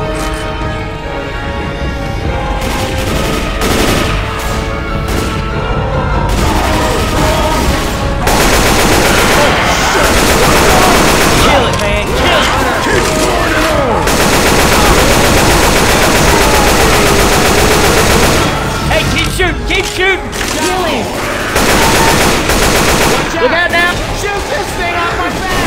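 Sustained automatic gunfire pours into the Tank in Left 4 Dead 2's Dead Center atrium, loud and nearly unbroken for the full length, while survivors shout over the din.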